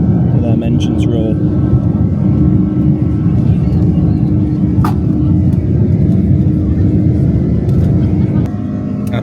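Jet2 airliner engines during takeoff roll from Manchester, a loud continuous roaring rumble heard from inside the cabin, steady throughout with a few faint clicks and knocks on top.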